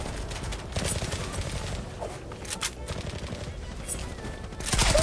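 Rapid automatic gunfire in an online game match, dense overlapping bursts of shots firing continuously and loudly throughout, with bright cracks and heavy low rumble, growing slightly louder toward the end.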